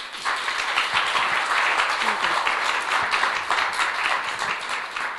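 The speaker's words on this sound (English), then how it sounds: "ladies and gentlemen, please join me in applauding her" An audience at an embassy book talk applauds the author, a steady, moderately loud roar of clapping from a full room that continues for over five seconds with scattered voices mixed in.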